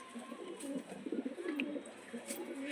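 Pigeons in a home loft give low, soft cooing calls, repeated in overlapping bursts through the clip against faint background noise.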